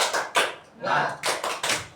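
A group claps in short rhythmic bursts during a classroom small-group session, about six clustered claps over two seconds, close and fairly loud, with voices mixed in.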